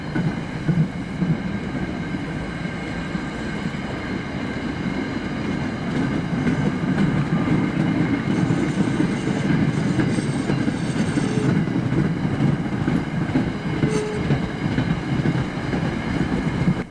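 Passenger train coaches roll past with a steady low rumble and faint rhythmic clatter, fairly quiet and continuous throughout, no voices.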